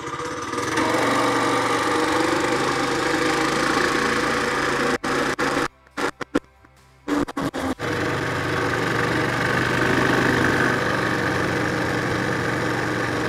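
A TrailMaster Hurricane 200X mini bike engine idles steadily at close range, a loud continuous small-engine putter that briefly cuts out and sputters midway before settling back into a smooth idle.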